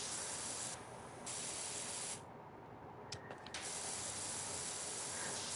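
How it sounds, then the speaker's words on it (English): A pressure washer in the video game Power Wash Simulator sprays a large plastic dinosaur, producing a steady loud hiss that briefly cuts out and resumes, with a few small mechanical clicks. "He says while spraying down a plastic dinosaur."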